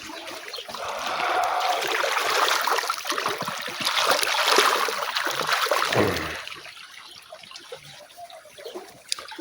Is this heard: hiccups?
no